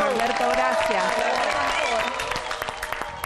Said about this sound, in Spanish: Un aplauso para vos, Norberto.